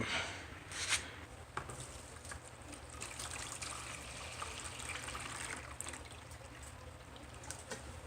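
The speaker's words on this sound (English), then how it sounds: "for fine gold, you don't want to run the water too fast" Water trickles and flows steadily through a gold sluice setup out in the Sierra, a continuous soft rushing that holds at an even level throughout, with no voices.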